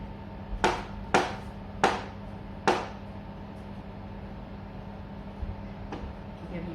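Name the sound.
knife slicing washed mushrooms thinly on a chopping board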